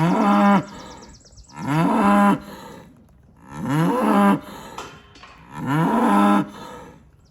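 Cattle moo four times in a slow, evenly spaced series, loud and near, as cows and calves gather at feeding time with cubes put out for the calves; no one speaks.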